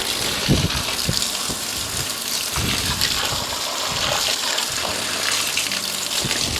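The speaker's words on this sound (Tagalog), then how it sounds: "Damihan ko na lang ng tubig to." Water is poured steadily over potted plants that have been wilting, a continuous close gushing and splashing that runs for several seconds with no talking.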